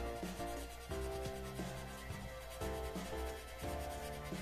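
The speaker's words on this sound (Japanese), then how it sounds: "このスティックヤスリは、600番ですね。" A 600-grit stick file sands the plastic body of a 1/24 Nissan R92CP model car, giving quiet rhythmic back-and-forth rasping strokes, close and soft, with a faint hum underneath.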